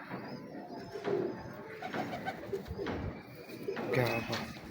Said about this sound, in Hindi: ये प्योर चोई साहब वाले कबूतर देख रहे हैं आप